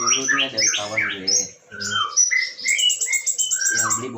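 Pet bird, called a palas pasema, chirping and tweeting in a rapid series of close, bright calls with short pauses, loud and alone without talk.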